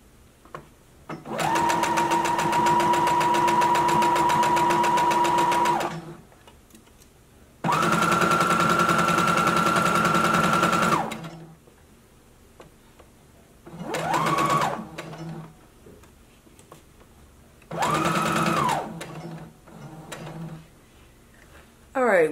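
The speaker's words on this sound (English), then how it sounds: "go ahead and line up the side seam with 5/8 of an inch seam allowance, lower your needle, begin sewing" Sewing machine stitching the side seam of a fabric skirt with a 5/8 inch seam allowance, running in four bursts: two long steady runs, then two shorter ones, each a loud close whir with quiet pauses between.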